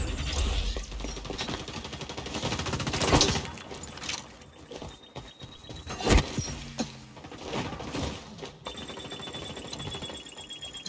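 Gunfire from an unusual weapon in the XDefiant shooter video game, with a few sharp, loud bursts standing out over a dense, steady bed of clattering mechanical game noise, and no voices.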